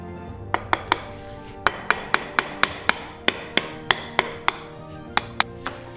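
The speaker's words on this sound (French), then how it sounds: "Insérez le cadre dans la trappe et tapotez avec votre marteau pour l'enfoncer." A hammer tapping a chimney sweeping hatch frame into its opening, a close series of about fifteen sharp metallic knocks in an uneven rhythm, striking alone with no talk.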